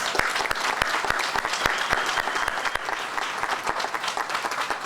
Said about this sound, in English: let's give all of our elected officials a round of applause